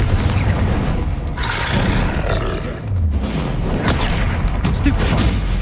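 A Confringo spell blast in Hogwarts Legacy, a roaring, booming burst amid dense battle effects that stays loud and continuous across the clip.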